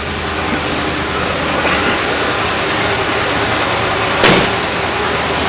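A 1968 Ford Thunderbird engine idles steadily after starting, with a continuous broadband rumble and one brief louder burst near the end.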